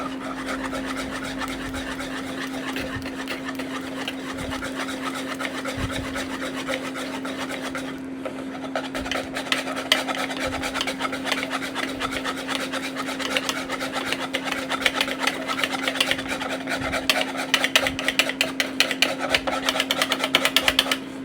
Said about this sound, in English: I'm just going to mix it until it's not lumpy anymore